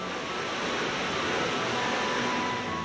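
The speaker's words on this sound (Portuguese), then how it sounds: "A maior cachoeira da Chapada dos Guimarães é a Véu de Noiva" Steady roar of the Véu de Noiva, a 78-metre waterfall in Chapada dos Guimarães, a dense unbroken rush of falling water heard close and loud with no voices.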